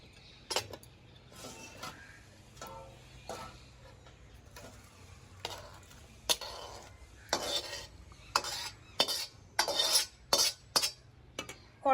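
A pot of boiled jackfruit and potato comes off the stove with scattered metallic clinks, clanks and scrapes that grow busier toward the end. Quiet stretches sit between the sharp utensil knocks, and no one speaks.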